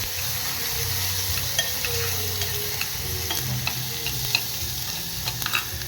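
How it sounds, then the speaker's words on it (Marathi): Two tomatoes added to hot oil with curry leaves sizzle steadily in a pan, with a continuous frying hiss and occasional light clicks of stirring, close and fairly loud. "टोमॅटो चांगला नरम होईपर्यंत परतवायचं आहे आपल्याला"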